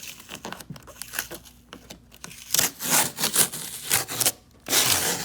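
Dark smoke tint film is cut and trimmed on the tail light of a 2011–2014 Dodge Charger, heard as close, faint scraping, rubbing and crinkling with irregular bursts and brief pauses.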